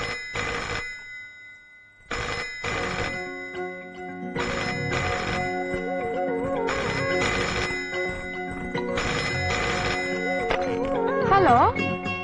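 A telephone rings after a call is placed: loud repeated bursts of a ringtone at a steady rhythm, then a longer, warbling stretch of ringing that grows slightly louder.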